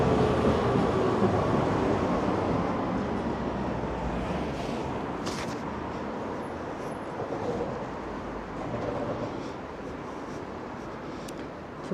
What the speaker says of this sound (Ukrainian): Трамвайчик їде.